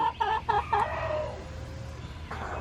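Chickens, mostly young hens, cluck in a short rhythmic burst of three or four calls, fairly close, over a low steady background hum.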